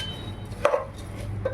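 A spoon stirs dal khichdi in a pot, giving a couple of brief clanks and scrapes against the pot over a low background hum.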